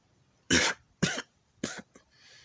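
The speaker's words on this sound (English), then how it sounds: "Coughing out blood." Three harsh coughs from a single person, close and loud, each a short burst with gaps between, then a faint trailing breath.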